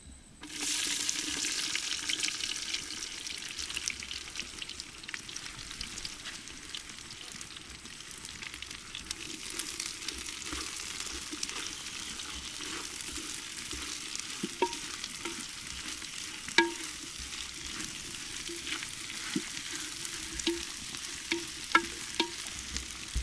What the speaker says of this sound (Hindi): तेल गरम हो गलानी एबे हम पियाज पकेवा।